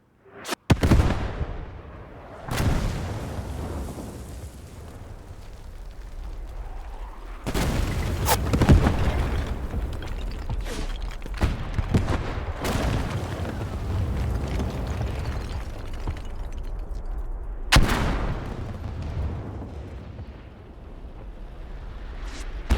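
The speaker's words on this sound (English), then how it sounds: "It does look like the 7-pounder gun is actually trying to strike the building over here" Heavy gunfire and explosions in the WWII shooter game Squad 44, with a 7-pounder gun shelling a building: several loud booming blasts with long rumbling tails recur every few seconds over continuous battlefield noise.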